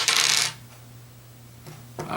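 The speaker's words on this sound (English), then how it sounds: "They're going to go ahead and re-roll both these brown dice." Two brown dice from the Quarriors board game being re-rolled: a quick clatter as they tumble and land, a quiet pause, then a few more light clicks as they settle.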